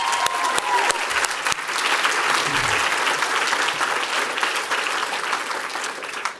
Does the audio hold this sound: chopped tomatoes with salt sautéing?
no